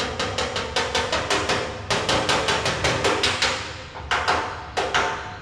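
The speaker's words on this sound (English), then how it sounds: "you can tell where you're at just by the sound of your hammer and dolly" Bodywork hammer tapping a metal car body panel backed by a dolly during auto body repair: a steady run of sharp, ringing metallic taps, roughly three per second, close by, with brief pauses between bursts and no talking.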